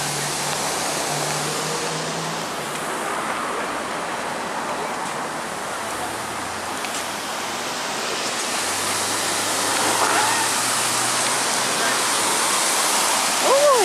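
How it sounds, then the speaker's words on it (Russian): An outdoor city fountain splashes and rushes continuously in a steady broadband hiss, with faint voices and background noise mixed in. "но надеюсь, вам будет слышно фонтан."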